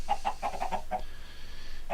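Chickens in a video game with an automatic cooker setup, a quick run of six short clucks followed by a pause and one more, clear against a faint background.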